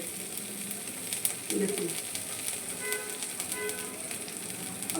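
Paneer masala tikki frying in ghee in a pan, giving a steady close sizzle with crackles throughout, while someone speaks briefly over it.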